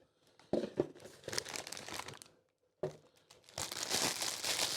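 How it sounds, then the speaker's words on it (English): Plastic wrap crinkles and tears as it is peeled off in two close bursts separated by a brief pause, the second rustle louder and longer. "There's your noise for taking the plastic off"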